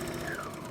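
A sewing machine runs steadily while stitching a drawstring bag, laying a stay stitch at a corner. The motor hum is continuous and fairly quiet, with no talking over it.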